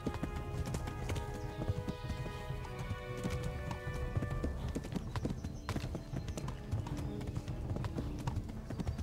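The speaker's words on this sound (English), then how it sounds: "How is that white horse always running that fast?" Hooves clatter rapidly in a steady galloping rhythm during a horse race in Kingdom Come: Deliverance, over a dense, busy game soundtrack, with a horse's whinny mixed in.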